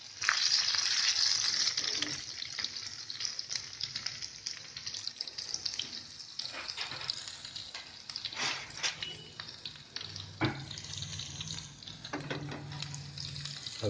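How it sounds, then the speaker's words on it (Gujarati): Green garlic sautéing in a pan with curry leaves, a soft continuous sizzle with stirring scrapes, fairly quiet and close. "એને સાંતળી લઈશું થોડીક વાર।"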